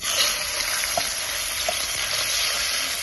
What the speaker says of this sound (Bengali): তেলের মধ্যে প্রথমে আমি দিয়ে দিচ্ছি চিকেনগুলো